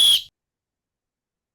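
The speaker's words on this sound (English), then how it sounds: "Well, Jugsy, blow your whistle, because that is the end of the predictions." A single sharp whistle blast, loud and close, cuts off after a fraction of a second and leaves silence.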